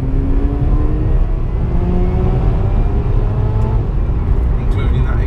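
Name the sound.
exhaust of a stock Mazda car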